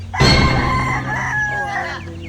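A fighting broodcock crows loudly and close by, one sustained cock-a-doodle-doo with a strained, rising then falling call that fills the short moment with no other voices.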